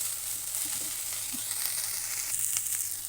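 Coriander with its stems fries in a pan, a steady close sizzle with faint stirring scrapes, continuous and even with no voices.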